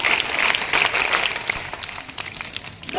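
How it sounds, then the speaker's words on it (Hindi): An audience applauds a mock drill's rescue teams at a school event, with dense, lively clapping that is strongest at the start and thins and fluctuates toward the end. "विशेष ताली इनके लिए भी बजाएंगे।"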